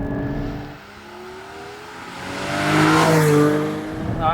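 A Porsche 718 Cayman GT4 with a 6-speed manual revs through its gears, the engine note dipping between shifts, then swelling to a loud, rising wail before easing off, heard from close by.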